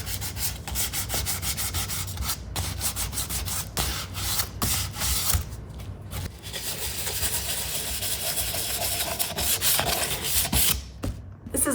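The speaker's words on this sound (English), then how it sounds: "I started distressing it and I love the cream color coming through, so I'm just gonna keep distressing it" A painted cream-colored furniture piece is being distressed by hand with sandpaper, a close, continuous scratchy rubbing in quick back-and-forth strokes with brief pauses.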